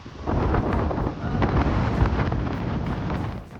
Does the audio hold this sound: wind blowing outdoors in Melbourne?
yes